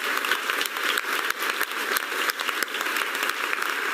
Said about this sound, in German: Das verdient sich einen Applaus.